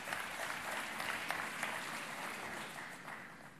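Steady applause from a large audience at a jobs summit, sustained and fairly distant, fading slightly toward the end with no speech over it.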